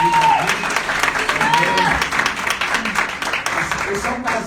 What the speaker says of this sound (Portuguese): dá uma salva de palmas esse casal bonito